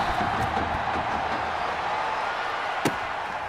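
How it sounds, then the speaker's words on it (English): Madden 21 stadium crowd roaring on its feet, a constant loud wash of cheering with a single sharp thud near the end. "the crowd is loud and on its feet"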